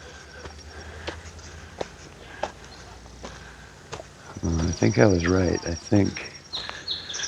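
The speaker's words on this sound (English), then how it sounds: "The birds are chirping and singing." Birds chirping and singing outdoors along a hiking trail at New Dungeness, faint calls at first, then a louder, closer burst of varied song near the end, while a person speaks briefly.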